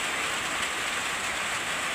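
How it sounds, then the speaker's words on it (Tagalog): Very heavy rain pours down steadily beside an old century tugop tree, a loud, unbroken hiss that fills the whole scene with no voices. "Sobrang lakas ng ulan"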